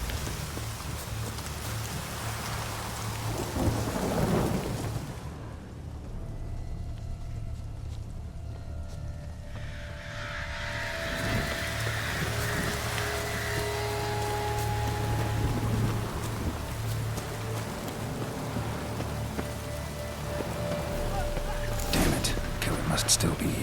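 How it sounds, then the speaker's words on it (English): Thunderstorm rain in the video game The Witcher 3: Blood and Wine pours as a steady dense wash with low rumbling throughout, while a voice speaks over it at times. "This storm, damn it."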